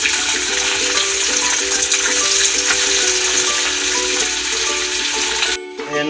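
Chicken wings sizzle and crackle steadily in hot oil, a constant dense frying hiss that breaks off briefly near the end.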